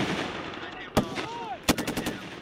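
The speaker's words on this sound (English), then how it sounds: "You got a 240 going off right next to you while you're trying to talk to your team." An M240 machine gun fires live rounds at a training range, sharp short cracks with a brief rapid burst near the end over a low background rumble.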